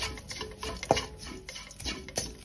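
Kashmiri chilli powder and coriander powder being sautéed and stirred in a pan for injipuli, with soft scraping strokes and light clinks close by and no voices.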